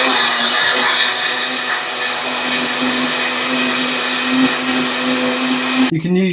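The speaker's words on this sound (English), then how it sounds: "it will make the process of blending it down a lot easier, especially when you haven't got a decent blender" A cheap blender whirs through boiled lentils and water, a loud continuous motor drone with a steady pitch for several seconds before cutting off abruptly near the end.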